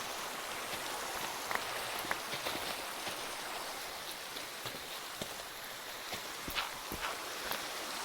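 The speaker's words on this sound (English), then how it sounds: "It's raining again." Steady rain hisses in the Minecraft video game, a soft, continuous wash of falling drops with scattered small ticks and patters, faint and without voices.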